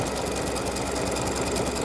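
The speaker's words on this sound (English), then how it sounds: "Here is the double heart stitching out." An embroidery machine stitches out a red and pink double heart freestanding lace design, its needle running in a steady, fast mechanical whir that stays loud and constant throughout with no pauses or voices.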